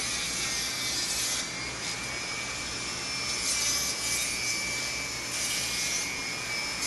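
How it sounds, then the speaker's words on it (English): Dremel rotary tool with a small drum sander deburring the inside of a turned wooden piece, a steady high whirring grind with continuous rubbing, close and unbroken throughout. "Dremel with a little drum sander on it to deburr it with, and I just do the deburring on the inside."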